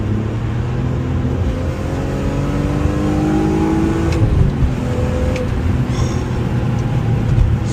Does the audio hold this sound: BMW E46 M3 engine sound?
yes